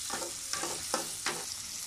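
Chicken pieces frying in spiced oil for restaurant-style chicken haleem, a steady close sizzle punctuated by four rhythmic scraping stirs, with no talking.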